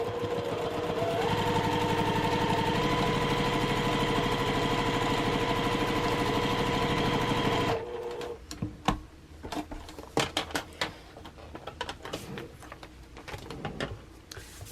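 A sewing machine stitches a quilt block with a fast, steady mechanical whir for several seconds, close and loud, then stops, leaving scattered clicks and handling sounds of fabric and tools.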